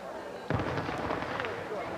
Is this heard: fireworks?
yes